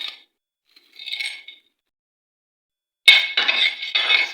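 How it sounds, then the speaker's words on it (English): Stirring groundnuts into a pot for groundnut soup, a few short close clinks and scrapes of utensil against the pot separated by silence. "I stir a bit and go in with the groundnuts."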